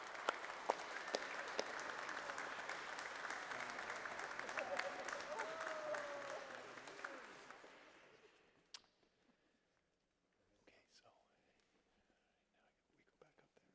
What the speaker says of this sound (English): How about a round of applause for our newly received Catholics?